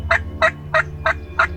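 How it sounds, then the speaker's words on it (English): A wild turkey gobbler calls in the open, giving five quick, evenly spaced gobbles that come through clearly over a low background rumble. "We saw a big gobbler come out"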